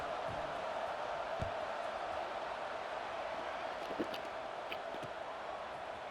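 A stadium crowd in the College Football 26 video game murmurs as a continuous, distant roar of many voices, with scattered faint thumps and brief tones rising from the steady wash.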